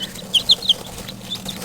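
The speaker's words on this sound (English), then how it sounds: "Look how much smaller Solo is than these chicks, and they're not very old" Chicks only a couple of days old cheep on a farm, making a few thin, high peeps close by over a soft background hiss, with no voices.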